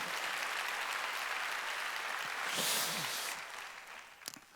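A church congregation at a Sunday worship service breaks into sustained applause, a broad, steady wash of many hands that swells slightly, then fades away with a few scattered last claps.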